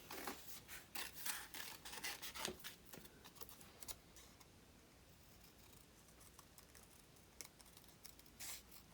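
Scissors snip through paper to cut out leaf shapes for a decorated 4 x 4 inch square box, giving a run of quick, crisp cuts and paper rustles up close and fairly faint, with no talking.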